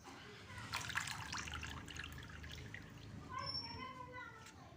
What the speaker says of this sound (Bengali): জল থেকে তুলে ছেঁকে নিলাম, পুরোটা ছাঁকা হয়ে গেছে আমার।